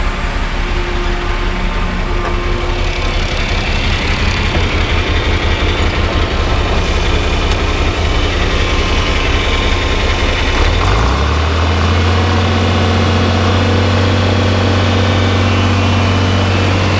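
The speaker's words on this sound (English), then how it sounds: "We'll get this auger going here." A grain auger runs steadily during a soybean harvest, a loud continuous engine drone with rhythmic mechanical pulsing that shifts to a deeper, steadier hum partway through, heard close with no talking.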